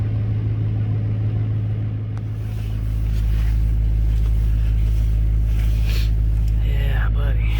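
A 2005 LBZ diesel engine cold-starts at 21 degrees, its deep rumble catching after a couple of seconds and settling into a loud, steady low idle close by.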